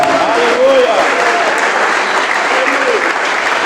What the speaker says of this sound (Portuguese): Desocupem as suas mãos, batam palmas e glorifiquem a Jesus.